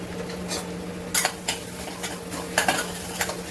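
Garam masala, coriander powder, turmeric and red chilli powder get stirred into softened tomato in a pan, with a soft sizzle under repeated utensil scrapes and clinks against the metal, close by and without talk.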